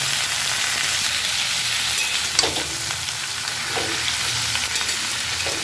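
Shrimp and mixed vegetables sizzle and fry steadily in a hot pan, a dense continuous hiss with occasional stirring scrapes, close and fairly loud with no talk.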